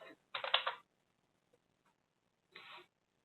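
Quick bursts of clicking on a computer keyboard, one longer flurry and a shorter one later, close and fairly quiet with near silence between.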